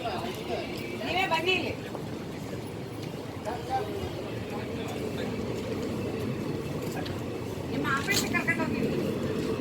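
The Siddhaganga Intercity Express pulls out of Harihar station with a continuous low rumble and clatter of wheels. Voices and station noise can be heard throughout.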